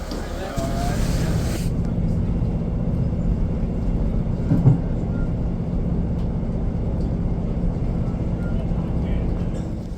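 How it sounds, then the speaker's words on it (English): Continuous low rumble of a moving train on rails, steady throughout, with faint voices in the background. "first train journey"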